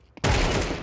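A video game gunshot cracks in loudly after a brief quiet moment with a faint click, then rolls on as a heavy, sustained burst of fire that fills the rest of the moment.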